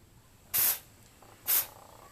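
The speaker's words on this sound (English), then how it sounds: "I got my little air hose in the condenser." Two short bursts of compressed air hiss through the AC condenser of a 1989 Ford F-150 during an R12 to R134a conversion, each loud blast lasting about a quarter second with a pause between.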